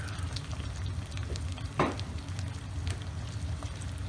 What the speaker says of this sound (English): we just stir this in with the meat